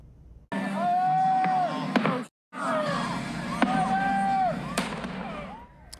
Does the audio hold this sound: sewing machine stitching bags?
no